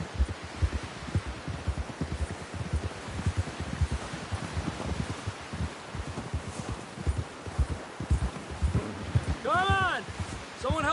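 Horse hooves clip-clopping at a steady ride in Red Dead Redemption 2, a rapid rhythmic patter of soft thuds over rustling wind, partly under several voices talking, with a brief tonal call near the end.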